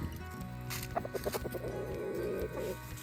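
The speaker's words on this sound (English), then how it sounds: "Here come the chickens." Chickens cluck in a quick series of short calls, followed by a longer warbling cackle, close by over a low steady background hum.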